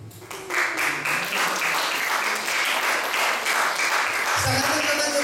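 A church congregation bursts into sustained applause that fills the room, steady and fairly loud, with a voice briefly heard at the start and again near the end.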